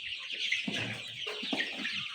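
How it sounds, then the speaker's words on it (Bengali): A mixed flock of about 300 young Sonali, Fayoumi and desi chickens clucking close by, soft overlapping calls in a steady chatter with no voices. "৩০০ মুরগির বাচ্চা আছে। সোনালি, ফাউমি এবং কি দেশি মুরগি"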